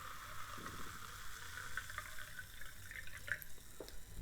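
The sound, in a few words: pouring Waterloo blackberry lemonade sparkling water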